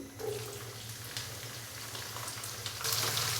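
Finely chopped onions, two normal-sized ones, frying in oil with whole spices for a white potato chicken pulao, an uneven sizzle with watery bursts and a louder hiss near the end.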